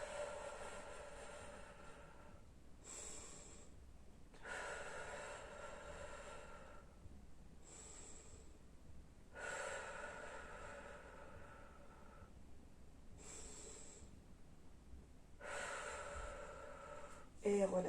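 Deep, slow breathing during a Pilates exercise, long airy inhales and exhales repeating about every two seconds with short gaps, close but quiet and alone.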